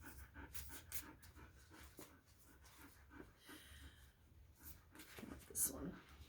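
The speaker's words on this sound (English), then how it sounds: "That panting is not me." A pet dog named Althea pants in quick, soft bursts close to the microphone indoors, with a few snorts and a louder breathy puff near the end.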